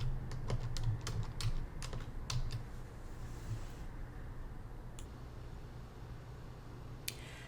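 Typing on a computer keyboard to enter search terms into a patent search box, a run of quick close key clicks in the first few seconds, then sparser taps over a low steady hum.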